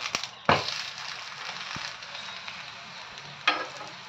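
A multigrain bhajani thalipeeth flecked with sesame fries on a pan over medium heat, giving a steady close sizzle broken by two louder bursts of hissing and a few small knocks.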